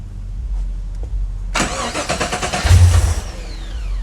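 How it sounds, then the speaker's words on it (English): An LS-swapped Datsun 280Z is cranked with the starter and fires up, giving a loud burst of engine noise that settles into a rough idle, with no talk over it. "I'll go ahead and try to start it"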